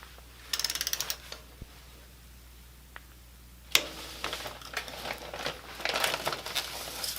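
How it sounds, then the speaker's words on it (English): Torque wrench clicking and ratcheting as LS3 cylinder head bolts are torqued to 106 inch-pounds during an 823 head install on an LS-swapped 350Z, with light mechanical clicks, a sharp snap midway, then busier tool and part handling. "So these bolts get torqued down to only 106 inch-pounds"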